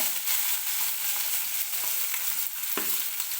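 Curry leaves and chopped onion with garlic frying in a pan for a Marathi-style cabbage stir-fry, giving a steady, close hiss of sizzling oil with a few light stirring scrapes and no talk.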